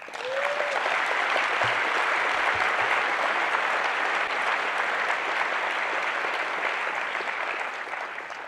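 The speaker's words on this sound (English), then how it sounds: "I want everyone to give you a warm round of applause" Sustained, steady applause from a large audience in an auditorium at an astronomy general assembly, loud and even throughout with no talk over it.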